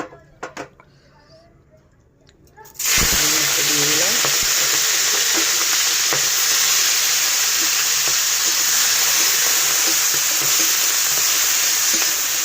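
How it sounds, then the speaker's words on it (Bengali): Prawns drop into hot oil and break into a loud, steady sizzle that fills the rest of the clip, after a quieter opening with faint kitchen clatter. "এবার চিংড়ি মাছটা ভাজা করব"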